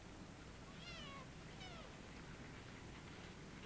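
A kitten gives two short, high meows in quick succession over a noisy indoor background, faint and close, with no talk.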